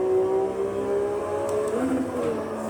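Porsche 991 GT3 race car at speed on the VIR circuit, its engine a steady loud drone heard from inside the car with a pitch that dips and then climbs as it accelerates, no talk.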